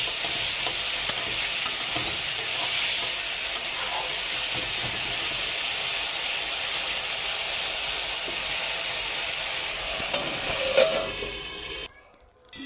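A splash of water hits ground spices frying in a pan and sets off a loud, steady hissing sizzle with faint stirring clicks. The sound runs unbroken for about twelve seconds, then cuts out suddenly.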